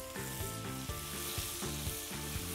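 Chopped onion sizzles steadily as it fries in a pan for soya keema, a continuous close hiss with light stirring, no talking.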